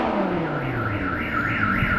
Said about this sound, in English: this R8 sets off car alarms